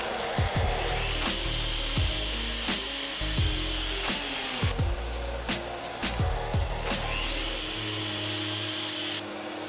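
A miter saw cuts wooden guide pieces in a workshop, with repeated short whining bursts as the blade spins up and bites, each followed by a decaying spin-down over a steady background hum.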